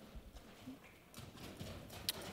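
Hooves of a four-year-old mare in saddle and bridle, being started under saddle, clop softly in an uneven rhythm at a distance, with faint background noise and a few brief sharper sounds.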